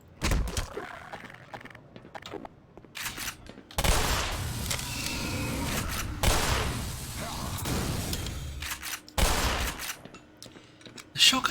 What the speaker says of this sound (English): The shotgun definitely has a delay on it when it's reloading. Like, it doesn't feel as snappy as I'd like it to, even though it sounds great.